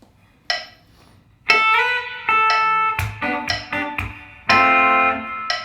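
Electric guitar plays bars 18 and 19 of a song, with a clean tone. Several plucked chords and notes ring out in an uneven rhythm, each one decaying, with a louder strum near the end.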